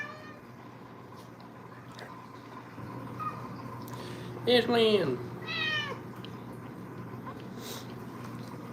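House cat named Aslan, just fed bits of steak in a home kitchen, gives a couple of short close meows midway, with a person speaking softly to her around them and low room hum.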